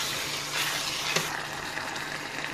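Crushed tomatoes being stirred in a skillet, giving a steady wet, sizzling churn with a soft scrape near the middle, close and continuous with no talking.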